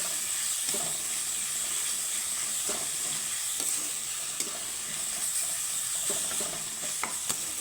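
Watermelon rind frying in oil as salt and turmeric are stirred in, giving a steady, close sizzle broken by repeated scrapes and taps of a spoon against the pan; no voices.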